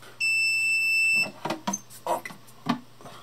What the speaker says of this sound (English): Okay, it's beeping now.